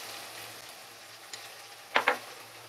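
Ginger paste for chicken biryani sizzles quietly in a pan, a soft low hiss with two quick sharp clinks near the end and no talking.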